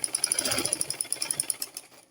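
A sewing machine stitches seams in skin illusion net fabric, giving a fast, steady, evenly spaced mechanical pulse that runs close and fairly loud before slowing and stopping near the end.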